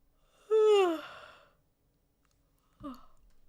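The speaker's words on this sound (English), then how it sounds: "Don't know why I'm yawning" A person gives one long, drawn-out yawn that starts loud and close and slides downward in pitch, then goes quiet, followed by a short breathy exhale.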